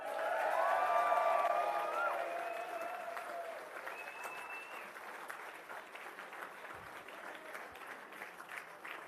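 Steady applause from a political rally crowd, loudest at the start and tapering slightly, with a few whistles or cheers rising over the clapping.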